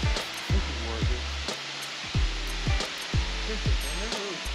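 The steady roar of Fall Creek Falls in Fall Creek Falls State Park, Tennessee, is a constant broadband rush of falling water, broken by repeated low thumps that sound like wind buffeting the microphone.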